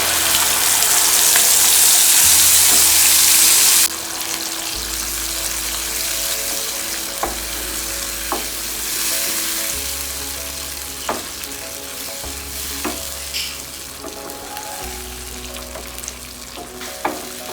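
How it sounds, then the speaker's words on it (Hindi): Tomato puree sizzling hard on a tawa for a mixed vegetable fry, a dense, continuous crackle with a louder burst at first, then settling under repeated close scraping strokes of stirring. "अब मैं इसमें टोमेटो प्यूरी डाल देती हूँ।"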